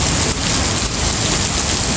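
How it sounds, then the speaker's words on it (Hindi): Very heavy rain pours down steadily under a darkened sky, a loud, dense, unbroken hiss with no voices. "बहुत ज़्यादा ख़तरनाक बारिश हो रही है भाई"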